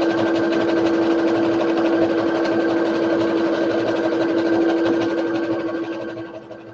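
An Enthusiast digital sewing machine stitches a holiday table runner with a steady, even motor whir and a close mechanical buzz that runs without a break, then slows and fades at the end.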